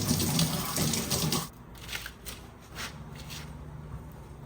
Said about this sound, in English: So we're just gonna water this thing now nice and slowly.